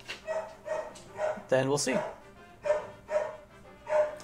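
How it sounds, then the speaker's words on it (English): Several dogs bark in a rhythmic series of close, sharp woofs, roughly one every half second, with someone talking over them during a video game session. "Sorry about the dogs barking."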